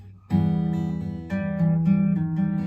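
A guitar strums a chord, then slides through a few chord changes that ring on with sustain, played up close at moderate volume.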